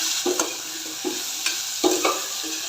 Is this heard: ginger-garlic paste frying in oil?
yes